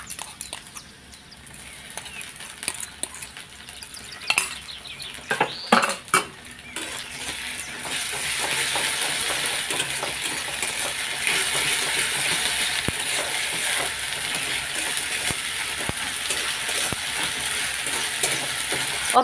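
Ginger garlic paste frying in a pan, with scattered metal spoon clinks and scrapes at first, then a steady broadband sizzle that holds at a moderate level to the end.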